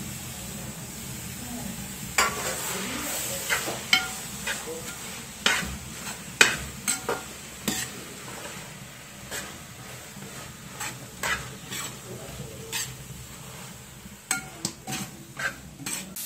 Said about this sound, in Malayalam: തക്കാളി ഇട്ടു നന്നായിട്ടൊന്ന് വഴറ്റി കൊടുക്കാം.